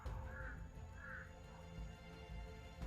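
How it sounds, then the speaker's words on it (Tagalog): Two or three hoarse crow caws ring out at a moderate distance over a steady low rumble of background noise. "May mga uwak po."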